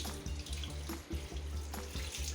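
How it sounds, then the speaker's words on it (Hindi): Steady rush of water flowing from the output pipe of an Aquaguard Enhance NXT RO purifier filter, a continuous close gushing stream with a low rumbling undertone, no talking. "ये आउटपुट से पानी निकल रहा है"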